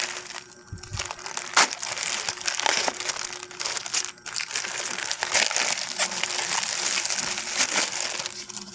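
Packaging for an eyelash curler being opened in a dorm room, with steady close crinkling and crushing of plastic or paper wrap, punctuated by a few sharper crackles, and no talking.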